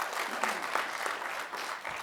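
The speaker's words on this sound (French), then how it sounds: "qu'on applaudit très très fort" Audience applause greeting the jury president at a business pitch event, a steady wash of clapping at moderate distance, fairly soft and continuous.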